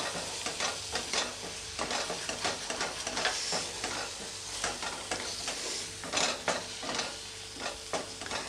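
Jackfruit halwa frying and being stirred in a pan, a steady close sizzle broken by repeated scraping stirs throughout, with no voices.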